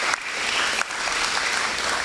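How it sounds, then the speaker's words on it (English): Audience at a school prize giving day claps steadily, a dense, even burst of applause from a crowd lasting the full stretch without pause. "Let's applaud them, ladies and gentlemen."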